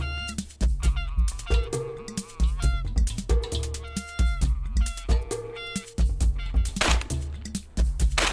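Loud honking calls from several flying geese during a May hunt overlap in a busy, repeated chorus, close by and continuous, with harsh nasal honks rising and falling.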